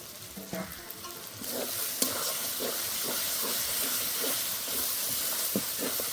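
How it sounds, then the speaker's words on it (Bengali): Chopped, slightly underripe tomato hitting hot spiced oil for chicken ghugni, rising into a loud steady sizzle with scattered stirring taps over the hiss, close by and without speech. "কুচি করা টমেটো দিয়ে দেবো।"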